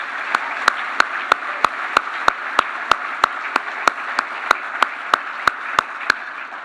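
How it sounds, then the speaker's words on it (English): A junior golf awards banquet crowd applauds the evening's winners in a broad, steady clatter of clapping, with regular sharp clicks ticking through it at even intervals. "One more applause for all the winners here this evening."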